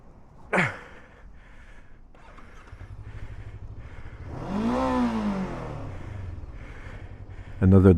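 Kove 500 adventure motorcycle stuck in sand, its engine revving hard at full throttle in a rising, straining surge, with loud bursts and a sharp thump near the start.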